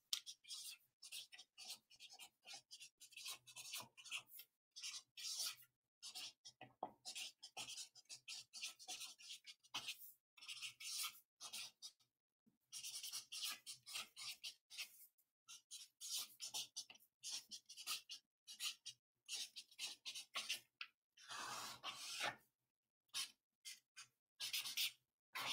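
Pen or pencil writing on paper, close and steady, with short scratchy strokes and frequent brief pauses between them, no talking.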